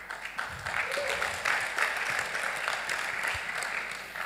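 Audience applause at a panel discussion, sustained clapping from a crowd at moderate volume that lasts several seconds, with a voice faintly mixed in.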